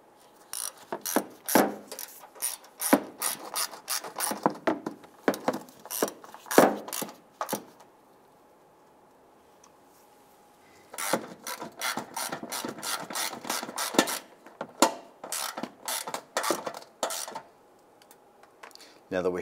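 Screws on a 2002-2008 Dodge Ram 1500 antenna base are tightened with a ratchet: rapid bursts of close, crisp clicking, then a pause and another long run of clicks.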